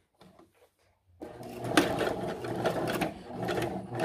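A Juki HZL-353Z sewing machine stitching through fabric: after a few quiet handling clicks it starts and runs close and steady, its rapid needle chatter continuing to the end.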